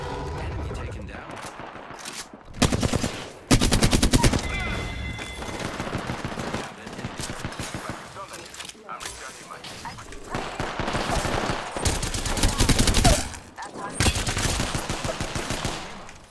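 Rapid automatic gunfire in Apex Legends rips out in loud bursts between quieter stretches, several volleys trading back and forth across the fight.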